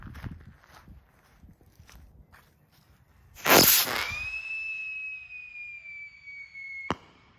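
A whistle firework rocket ignites with a loud burst, then a long, steady, high whistling tone trails off as it climbs into the sky, ending in a sharp pop; outdoors, with faint footsteps and shuffling beforehand.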